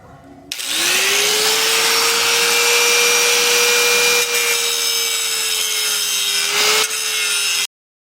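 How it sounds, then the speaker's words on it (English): 4-inch disc grinder cutting clearance into a suspension control arm: a loud, close, sustained whining grind that starts abruptly, holds steady for about seven seconds with slight pitch dips, then stops suddenly. "Just doing it with a 4-inch disc grinder."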